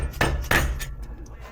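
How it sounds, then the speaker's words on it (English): Hammer taps underneath a 2005 Hyundai Tiburon 2.7L V6 turbo while the exhaust downpipe is being removed: two sharp metallic strikes close together, then a fainter third, over a steady low engine-bay hum. "tapping in with the hammer."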